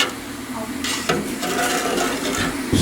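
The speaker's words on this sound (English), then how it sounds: "So when the solution is ready, with the jug, and just pour it into those and make sure the eggs are fully covered." Pickling solution pours from a jug over eggs packed in jars, a steady liquid trickle and splash with a few clinks partway through, close and moderately loud.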